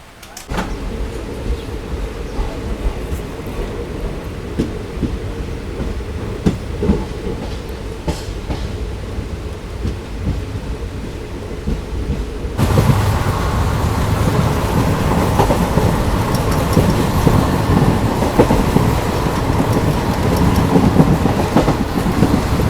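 A train rolls through the Thar Desert, its wheels rumbling and clacking steadily throughout. Partway through, the rumble suddenly turns louder and fuller, as though heard from an open spot in a general coach.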